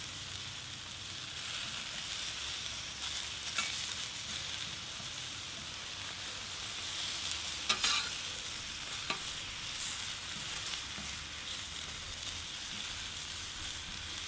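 Sweet potatoes with basil sizzle steadily on a hot steel plancha, a continuous close hiss of frying with a few soft clicks and stirring scrapes, and no talking.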